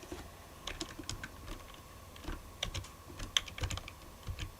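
Computer keyboard keys are pressed in quick irregular clusters, light clicky taps close by at a soft level, with no talking.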